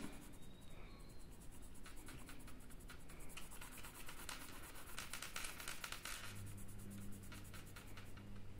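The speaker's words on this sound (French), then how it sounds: "je le tiens bien à plat en fait, quasiment la mine plate comme ça directement sur le papier." Turquoise colored pencil held nearly flat, lead laid against paper, shading a background fill; a soft continuous scratchy rubbing runs steadily throughout, close and quiet, with no talking.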